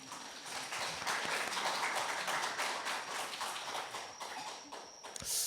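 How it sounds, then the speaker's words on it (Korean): An audience claps together at a book-fair reading performance in a used-bookstore alley, a dense steady patter of many hands sustained for several seconds at moderate loudness. "박수 한번 쳐주실래요?"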